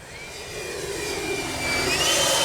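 A Freewing 90mm F-22 RC electric ducted-fan jet flies past, a steady rising whine with a gliding high tone that grows slightly louder over a couple of seconds, with no talking.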